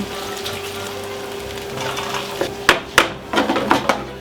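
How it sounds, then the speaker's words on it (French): Vegetables simmer in a pan with white wine while being stirred, a soft steady bubbling hiss broken by several sharp utensil knocks and scrapes against the pan toward the end, close and fairly loud. "On remue tranquillement comme ça. Ça commence à bouillir, les légumes comme ça."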